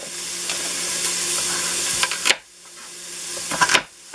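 Ham and bean soup ingredients sizzle and crackle in a hot pot, with bursts of stirring scrapes and a pause where the sizzle briefly drops away.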